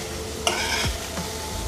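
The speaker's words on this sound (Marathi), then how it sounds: "एक 2-3 मिनटं फक्त शालो फ्राय करायचे." Soya chunks shallow frying in a pan give a steady soft sizzle, broken by a couple of brief scraping stirs near the start, with no talking.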